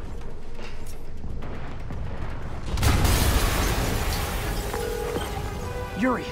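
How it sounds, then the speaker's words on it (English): A loud explosion booms in a Marvel's Spider-Man video game scene, a sudden heavy blast that leaves a long rumbling roar with crackling debris, while muffled voices carry on beneath it. "an explosion just..."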